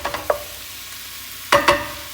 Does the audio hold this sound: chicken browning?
yes